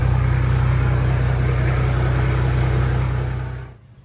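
Turbo 1HZ diesel engine in a Land Cruiser running steadily, a deep low drone with a constant broadband rush above it, loud and close, no talk, before cutting off abruptly near the end.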